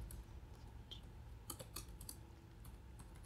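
Faint, quick keystrokes on a computer keyboard come in a short scattered burst of clicks over a low, steady room hum.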